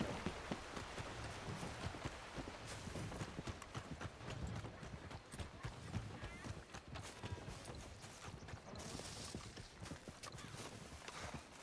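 Steady clip-clop of horse hooves in a western-style video game set in 1904, a continuous trotting rhythm running close by throughout, with faint background ambience and no clear talk.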